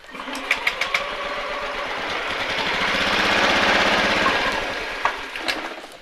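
An engine runs at idle during an idle rpm adjustment, a steady mechanical chugging hum with a few sharper knocks near the start and end, fairly close and moderately loud.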